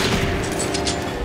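Gunfire in the Resident Evil Revelations video game, a short loud burst of rapid shots blending into dense crackle, close and continuous for about a second.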